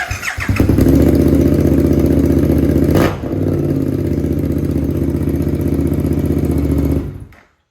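A Suzuki GSX8S fitted with a Lextek full exhaust and dual-outlet canister revs loud and close, a steady throbbing idle with a brief throttle blip around midway, then cuts off abruptly to silence.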